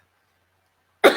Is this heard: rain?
no